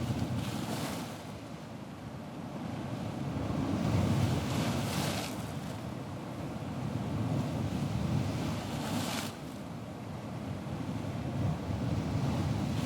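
Steady ocean waves wash onto a sea shore with a continuous roar of surf and wind, swelling and easing in slow surges, with no voices.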